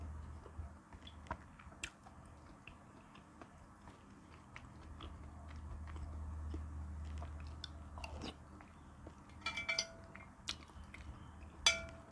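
Someone bites and chews crispy pork belly with rolled noodle soup, giving soft, close crunches and wet chewing sounds at an irregular pace, with occasional faint clinks of utensils and no talking.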